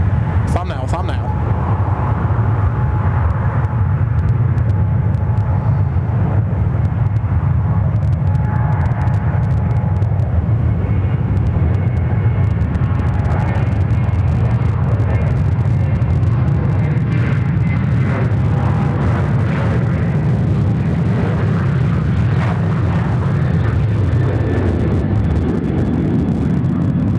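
A United A340 airliner on the runway at Sydney Airport gives a steady, distant jet rumble that runs the whole time beneath ongoing conversation.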